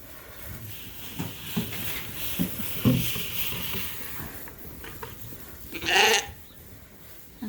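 Lambs bleating on a sheep farm, a few calls spread across the clip, one louder bleat near the end, over a bed of rustling and farmyard background.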